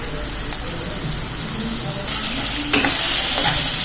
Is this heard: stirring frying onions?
yes